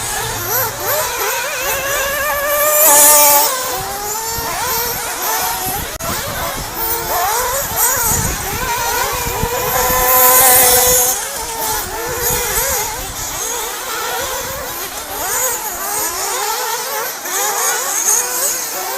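Race cars lap the Valley Raceway track during qualifying, their engines droning and revving loudly and continuously as cars pass close by, with rising and falling pitch sweeps throughout.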